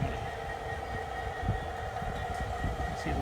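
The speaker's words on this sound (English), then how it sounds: "So I hear the train coming." A garden railroad model train runs along an outdoor track, producing a steady, continuous rumble with faint rhythmic clicking that stays at an even level throughout, without talk.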